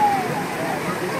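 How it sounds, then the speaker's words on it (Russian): Spring water flows at the Tirta Empul temple in Bali, where people fill containers from the source: a brief, steady rushing splash with voices faintly underneath. "здесь люди набирают из источника воду"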